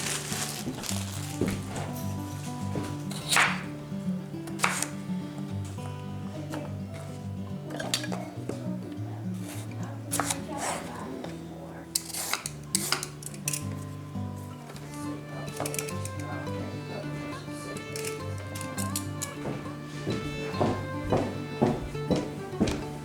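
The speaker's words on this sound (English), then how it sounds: "We just gotta chop up some carrots and potatoes real quick." Carrots and potatoes are chopped quickly with a knife in a home kitchen, making irregular taps and clinks scattered across the whole stretch over a steady tonal background sound.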